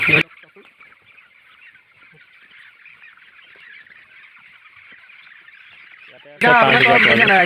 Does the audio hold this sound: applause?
no